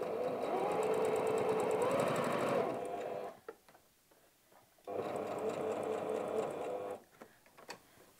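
Sewing machine stitching a bulky denim wallet through four layers of fabric, running in two loud steady bursts separated by a short pause, close by with no talk over it.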